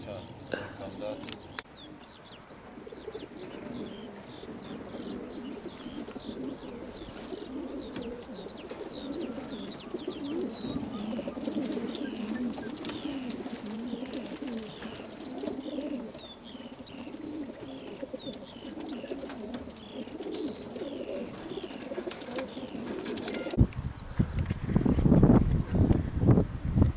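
Racing pigeons coo continuously in a low, murmuring chorus at a club loft, with occasional wing flutters and people talking nearby, and a louder rustle near the end.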